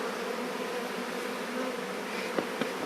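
Honey bees buzz in a dense, steady drone around an open hive being split in spring, close and continuous, with a couple of brief knocks near the end and no speech.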